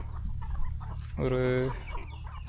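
Native country chickens on a farm at feeding time cluck amid farmyard noise, with one rooster-like call rising clearly near the middle; a voice speaks briefly.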